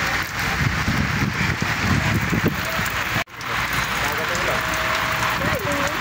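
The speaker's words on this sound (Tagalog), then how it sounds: "It's raining." Heavy rain pours steadily over a fishing spot near Zamboanga City, a dense broadband hiss with scattered close drops, while people talk intermittently over the downpour.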